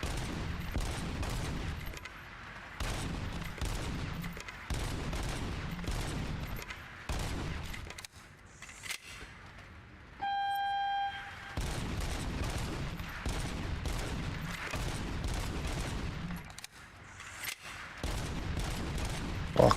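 Burst-fire gun in RoboCop: Rogue City, loud and close, firing rapid clusters of shots again and again with brief pauses between bursts and a short electronic beep partway through.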